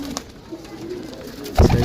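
Indian pigeons cooing in a loft, soft low coos repeating near the mic, then a louder thump or flutter at the end.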